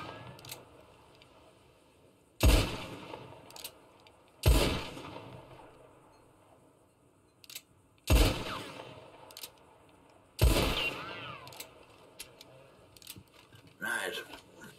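Rifle shots ring out in Red Dead Redemption roleplay, four loud, sharp reports spaced a couple of seconds apart with quiet gaps between, followed by a weaker fifth shot near the end.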